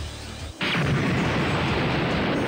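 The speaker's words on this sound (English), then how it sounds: "Suddenly, an explosion rang out from the heart of the city." A sudden explosion in the fighting game Dragon Ball Z Budokai Tenkaichi 2: after a quieter moment, a loud broadband blast erupts and holds as a sustained roaring rumble to the end.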